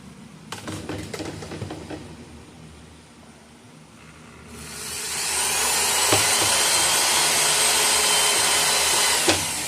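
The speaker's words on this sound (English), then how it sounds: "So let's drill hole" A few sharp ticks and clicks, then a steady high motor whine starts up and holds loud and continuous, a power drill running close, drilling a hole in a plastic water filter bucket.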